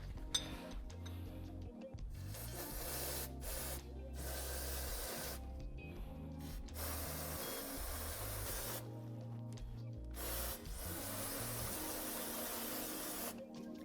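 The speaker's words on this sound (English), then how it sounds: "Then we can go ahead and spray these parts off." Cleaner sprays onto steel and friction plates and bolts from a Yamaha TW200 clutch in repeated loud hissing bursts, with short pauses and faint metallic clinks between them.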